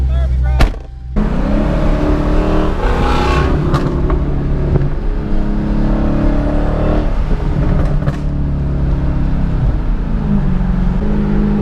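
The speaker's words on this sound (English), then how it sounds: "Hit me with a rev one time." A Hellcat engine rumbles and revs up through an aftermarket exhaust with a deep, throaty note, sustained and loud, with brief bursts of voices over it.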